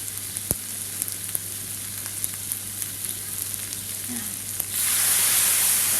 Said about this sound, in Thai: ผัดให้เข้ากันนะครับใส่น้ำสต๊อก